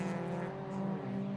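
Race cars lap Cadwell Park circuit during a BRSCC race meeting, a steady, loud engine drone holding through the short moment without a clear pass-by peak.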